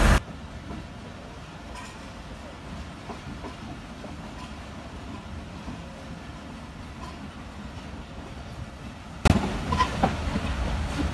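The Rehman Baba Express (47 Up), a Karachi-to-Rawalpindi passenger train, rumbles and rattles steadily at Lala Musa station, growing noticeably louder and closer near the end.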